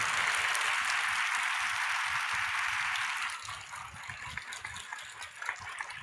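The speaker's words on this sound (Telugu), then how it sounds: "ఈ కృపనిచ్చిన దేవునికి గట్టిగా చప్పట్లు కొట్టి మహిమ చెల్లిద్దాం." A congregation at a Friday fasting prayer service in church claps in a dense wash of applause for about three seconds, then it thins into scattered fading claps.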